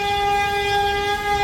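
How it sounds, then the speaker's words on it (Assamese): A train's horn blares in a long, steady, loud tone near a vehicle showroom beside a railway overbridge near Patna Hospital, with no talk over it. "ট্ৰেইন যাই আছে"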